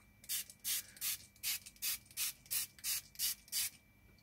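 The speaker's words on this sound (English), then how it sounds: "Oh, my spritz bottle. Okay. Spritzes again." A spray bottle spritzes water onto a watercolor painting of lavender fields. About ten quick, hissing sprays come in an even rhythm, close and fairly loud, with no talking.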